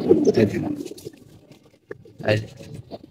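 Pet pigeons in a keeper's loft coo softly on a hot evening, low murmuring calls that sit beneath someone talking for most of the stretch.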